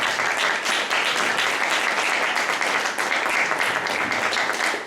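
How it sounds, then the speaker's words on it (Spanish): Sustained applause from an audience at a university event in Puerto Rico, a dense, steady wash of many hands clapping that stays loud and unbroken for the whole stretch, with no voices rising above it. "Aplausos, por favor."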